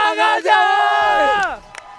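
Esports arena crowd at the Mobile Legends MPL Season 6 final between RRQ Hoshi and Alter Ego: a loud, sustained collective shout that swells and then slides downward before fading, lasting under two seconds.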